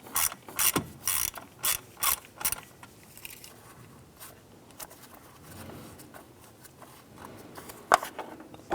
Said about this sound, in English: Using a 7mm socket, we'll go ahead and remove this little screw here.